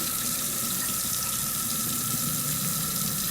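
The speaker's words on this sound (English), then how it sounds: "And I'm going to drain the water off again." Steady rushing of water poured off a bowl of rinsed mushrooms into a sink, an even, continuous splashing flow without any voices.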